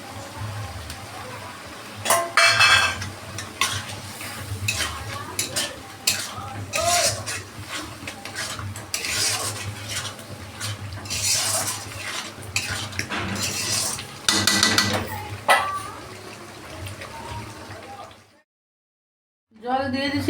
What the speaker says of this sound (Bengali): তো আমি মশলাটা ভালো করে একটু কষায় নিই